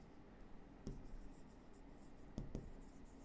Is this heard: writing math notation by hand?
yes